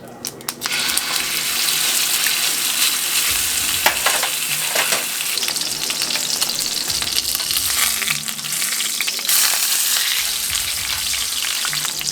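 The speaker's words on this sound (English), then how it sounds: "get Old Faithful, the cast iron pan out, and fry up this bad boy" A dry-aged ribeye steak sizzles loudly in a cast iron pan, giving a dense, continuous crackling hiss close up with occasional pops.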